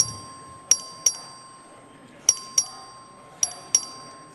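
A voting bell rings in the Texas House chamber: three quick pairs of bright, clear strikes spaced about a second apart, each ringing out briefly over a quiet room tone.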